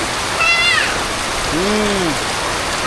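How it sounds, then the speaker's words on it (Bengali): Heavy rain falling in a village, a steady broadband wash of drops close by, with two short vocal calls, one high and one low, rising briefly above it. "দেখ কত বৃষ্টি নামছে"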